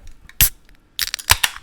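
Beer cans cracking open at a podcast table, a sharp pop and hiss near 0.4 s followed by a cluster of crisp snaps and fizzing bursts toward the end, close and fairly loud.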